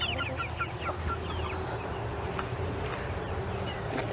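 Backyard chickens cluck and squawk in short, repeated bursts at close range, with a soft rustle of movement in the coop and no talking.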